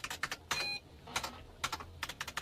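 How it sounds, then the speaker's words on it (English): Fingers tap a computer keyboard in quick, uneven bursts of clicks, fairly faint, with short pauses between the runs of keystrokes. "I see he's typing on his computer."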